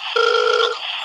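A single electronic telephone tone for a conference call sounds for about half a second, steady and clear over a faint background hum.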